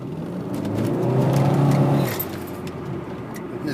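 Saab 9000 sleeper with an automatic gearbox and over 300 horsepower, engine droning loud and close as the transmission downshifts once and the car pulls hard, the roar swelling then easing off.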